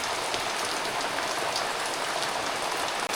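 Steady rain pours down in a village during the monsoon, a dense even hiss of drops on surfaces that fills the scene without pause and is heard alone.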